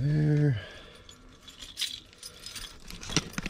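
A bunch of keys jangles and clinks in short bursts around an idling Ford L8000 truck, rattling up close after a low engine note at the start.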